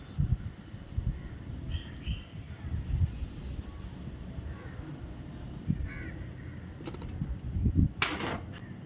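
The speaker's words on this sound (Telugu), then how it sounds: "పిచ్చుకల సౌండ్స్ అట్లా కాకులది అట్లా సౌండ్స్ అయితే వస్తున్నాయి" Crows cawing at a distance with faint sparrow chirps, over steady outdoor background noise; calls come intermittently.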